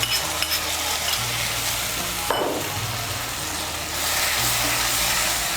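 Mustard and poppy seed paste dropped into a hot frying pan and stirred in, a steady close sizzle that surges loudly once the paste lands, followed by brisk stirring and no speech.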